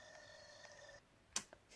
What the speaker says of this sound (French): C'était le téléphone qui sonnait.